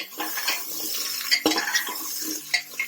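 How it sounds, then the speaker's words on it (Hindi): Chopped carrot is stirred into a papaya and potato curry in a pan, giving close, steady scraping and clinking of a spoon against the pan with soft wet shuffling throughout. "और एक गाजर एक तो कटा हुआ, इसे डालकर चलाएंगे।"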